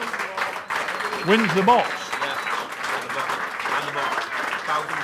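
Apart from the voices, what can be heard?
round of applause for medal winner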